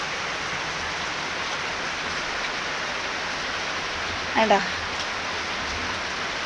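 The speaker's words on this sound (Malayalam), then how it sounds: "നല്ല സൂപ്പർ മഴയാണ് പെയ്തോണ്ടിരിക്കുന്നത്." Heavy rain pours outside after dark as a steady, dense hiss that fills the whole stretch, with a brief spoken word from a person heard over it.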